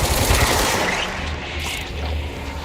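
Gunfire in the action video game Control, a dense burst of rapid shots that fills the stretch at steady loudness and slowly eases toward the end, with no talking.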